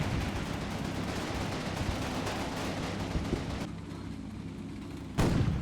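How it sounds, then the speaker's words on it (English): Sherman tanks firing on a tank destroyer in the Combat Mission: Final Blitzkrieg war game, a dense rumble of distant gunfire and artillery with a sharp nearby boom near the end. "These are the two Shermans on the east, just starting to attempt to put some rounds into that tank destroyer"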